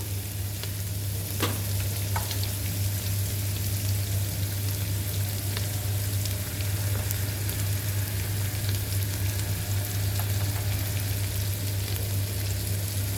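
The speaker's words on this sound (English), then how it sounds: "कांदो घालून बरे भशेन एका भाजून घेयात कांद्याक" Onions sizzling in hot oil with tempering spices for Goan gobi chilli, a steady, even crackling fry with occasional faint clinks of a utensil against the pan.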